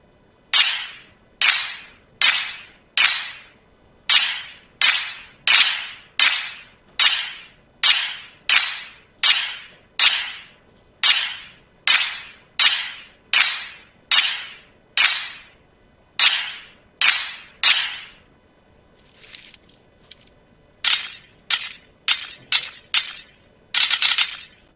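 Rapid bursts of gunfire in the shooting game BGMI repeat in a steady rhythm, each shot sharp and bright, with a brief pause before a final quick volley.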